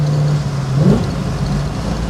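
A 1969 Chevrolet COPO Camaro clone V8 engine idling with a low steady rumble, then briefly revving before settling back; close and fairly loud, no voices.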